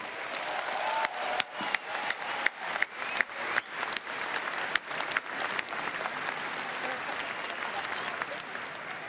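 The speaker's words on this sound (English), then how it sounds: "I'd like you all to give yourselves a huge round of applause." A large audience at the BlizzCon 2010 opening ceremony in Anaheim breaks into loud, sustained applause, a dense wash of clapping with scattered sharp claps and faint voices underneath.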